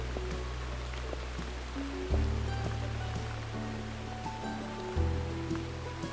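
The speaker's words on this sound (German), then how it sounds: "Im Regen." Steady, soft rain hisses throughout in the video game Burnhouse Lane, under low tonal music with a couple of deeper swells.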